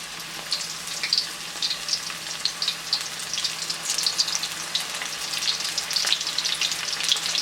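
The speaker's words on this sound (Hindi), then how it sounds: "आप इसको बीच में डालते हैं और फ्राई होने देंगे मीडियम फ्लेम पर" Chicken bites deep-fry in oil over a medium flame, a dense, steady bubbling crackle heard close up and alone, without pauses.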